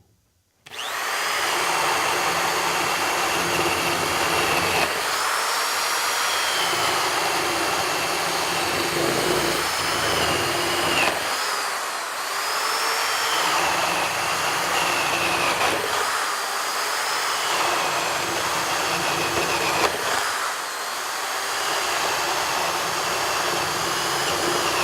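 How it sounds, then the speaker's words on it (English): A Milwaukee Hole Shooter corded drill bores five holes through wood, a loud continuous high whine that dips briefly between holes, close and steady for over twenty seconds. "We're going to shoot 5 holes with the Milwaukee hole shooter."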